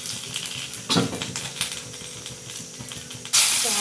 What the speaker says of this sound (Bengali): এবার আমি সবজিগুলোকে ভেজে নেব। তার জন্য দিয়ে দেবো 2টো তেজপাতা